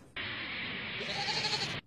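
One sustained goat bleat, loud and close, holds steady for nearly two seconds with nothing else around it.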